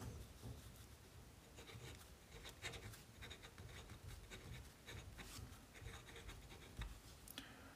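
Fountain pen scratching across paper in quick, uneven strokes, faint and close, with small rhythmic scrapes and taps and no voices.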